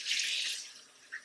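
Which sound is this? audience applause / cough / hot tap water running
hot tap water running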